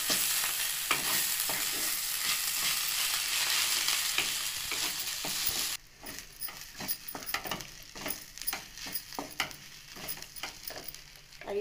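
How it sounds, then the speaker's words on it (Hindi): Ginger, garlic and green chili paste fries in a pan for vegetable paratha, a loud steady sizzle for the first half, then quieter frying broken by repeated stirring scrapes and clinks. "अब इसमें मैं अदरक लहसुन और हरी मिर्ची का पेस्ट डालूंगी और इसे भी मैं थोड़ी सी भून लूँगी।"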